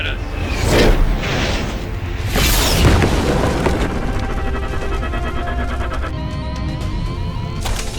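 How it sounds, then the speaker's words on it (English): Colony defense systems firing on a ship in the sci-fi action shooter Everreach Project Eden, with repeated loud booms and whooshing blasts over a rumbling engine drone and some electronic tones. "They're firing at us!"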